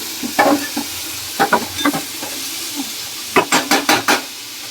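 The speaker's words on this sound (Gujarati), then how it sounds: "સરસ મજાનું શાક વઘારાઈ ગયું છે. હવે આને ધીમે ધીમે ગેસે ચડવા દઈશું." Bitter gourd and cashew curry sizzles in hot tempering oil as a spoon stirs it in the pan, with bursts of scraping and crackling in two clusters over a soft steady hiss.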